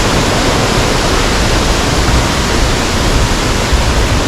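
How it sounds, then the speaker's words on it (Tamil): Water pouring down from a hidden waterfall in Kerala, a loud, dense, continuous roar heard close up with no break. "அந்த ஃபால்ஸோட தண்ணி இப்படி தான் வருது"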